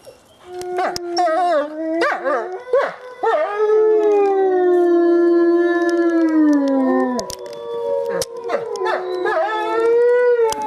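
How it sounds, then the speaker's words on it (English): Several wolves howl together, long sustained wavering howls that rise and overlap, punctuated by a few short yips and barks, close and loud. "maybe do a little howl back"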